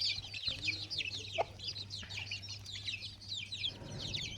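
Backyard chickens and a rooster cluck in a series of quick, fairly faint bursts close by, with a low steady hum underneath.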